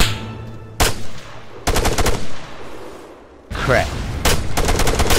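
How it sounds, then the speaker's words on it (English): Machine gun fire in the military video game Arma (DUWS mode) rattles in several loud, rapid bursts with short gaps between them, and a voice briefly speaks over it. "See that tracer fire?"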